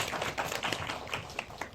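An audience at a Seoul International Environmental Film Festival screening and talk gives a short round of dense, steady clapping for the director and actors.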